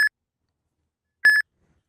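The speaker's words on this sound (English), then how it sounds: "Your phone will start beeping, and the screen will flash." Two short electronic beeps from an Uber driver's phone signalling a trip request, the second a quick double tone, ring out clearly with silence between them.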